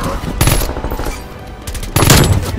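Loud, close gunfire from a three-round-burst rifle in a video game: rapid clusters of sharp cracks, with one burst near the start and a heavier burst toward the end, over continuous game noise.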